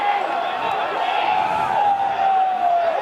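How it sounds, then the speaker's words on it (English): An Australian rules football crowd at a suburban grand final, Frankston YCW against Bonbeach, sends up a sustained, fairly loud roar and jeer after a holding-the-ball decision. The noise swells steadily for the whole stretch without dying away. "Crowd letting us know what they think of that decision."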